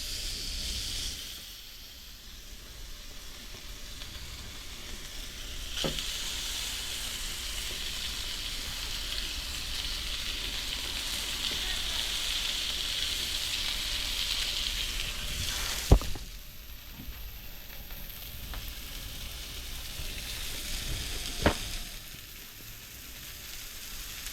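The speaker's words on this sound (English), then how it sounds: "Let's get the chops on and get them seared." Pork chops searing in oil on a hot griddle, a steady broad sizzle that carries on for the whole stretch, with a few sharp pops and spatters along the way and no voices.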